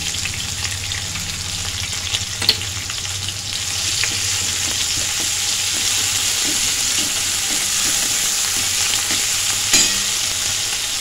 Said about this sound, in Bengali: একটু নেড়ে নিচ্ছি। দিয়ে দিচ্ছি আদা আর জিরে বাটা।